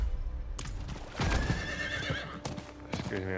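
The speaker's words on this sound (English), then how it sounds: "Goddamn horse taking forever." A Diablo 4 horse mount neighs loudly and its hooves clip-clop close by, mostly alone with little talk.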